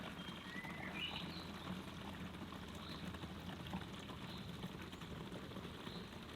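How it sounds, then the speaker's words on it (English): A pond filter box slowly filling with water pumped in through the system, giving a steady low gurgling, bubbling trickle close by, with no voices. "So now the box is filling up with water first, and it should be coming out any second,"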